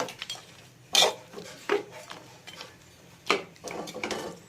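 Spoon scraping and clanking against a metal pot while melted pork fat is stirred into pork curry, several irregular metallic knocks and scrapes at moderate loudness, no voices.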